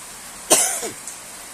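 A single short cough from a person, fairly quiet and close, followed by a brief throaty trailing sound and then silence.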